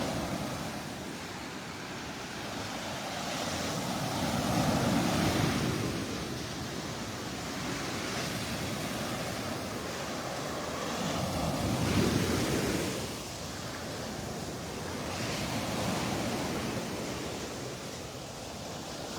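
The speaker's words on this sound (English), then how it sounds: "as the tide's coming in, it's pulling a lot of the shells back into the water." Surf washing up and drawing back in slow swells over shells on an incoming tide at Delnor-Wiggins beach, a broad rushing hiss that rises and falls twice, with some wind buffeting.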